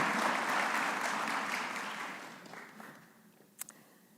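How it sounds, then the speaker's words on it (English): Audience applause and cheering for graduates at a Penn State Brandywine fall commencement ceremony, a loud sustained burst that slowly fades over several seconds, ending with a few scattered claps. "please stand so we can cheer for you."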